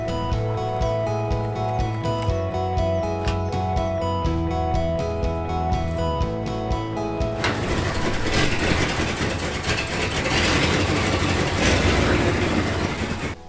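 The engine of a 1974 Ford F-250 Highboy runs steadily after a new carburetor install, with a constant droning idle that turns suddenly louder and rougher partway through, with no voices over it.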